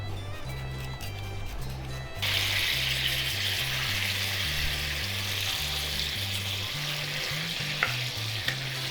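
Pork belly steak sizzles and fries in a pan with wine, a steady hiss that swells louder partway through, with a rhythmic low background pattern underneath and no talking.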